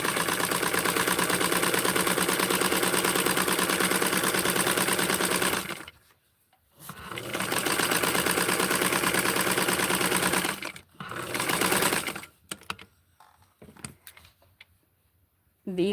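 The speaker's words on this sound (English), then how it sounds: "And we are getting ready to sew the top and gather this beauty." A sewing machine stitches a doll dress in long, steady, fast runs, close and loud, broken by short pauses and a final stretch of scattered handling clicks.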